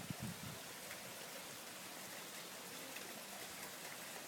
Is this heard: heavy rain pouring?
yes